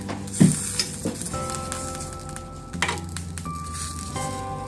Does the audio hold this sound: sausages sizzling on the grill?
yes